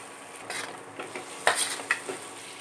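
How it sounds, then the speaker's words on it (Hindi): Mixed vegetables added to sautéed spices in a pan for a paneer dish, quiet frying with a few scraping stirs and clattering knocks of utensil on metal. "अब इसमें सारी सब्जियां डाल देंगे।"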